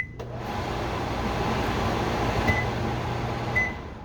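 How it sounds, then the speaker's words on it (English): A small vent fan above a stove in a 2024 Cougar 364BHL travel trailer whirs steadily at an even pitch, a constant airy hum that stays level throughout with no voices. "Up above, we've got a little vent fan."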